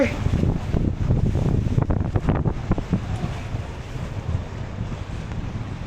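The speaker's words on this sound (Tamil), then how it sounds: "வா ஆக்ரோஷமாக இருக்குது கடல் காலையிலேயே" A rough Southern Ocean sea in the morning gives a loud, continuous wash of surf with heavy wind buffeting the microphone, and a few brief voices sound beneath it.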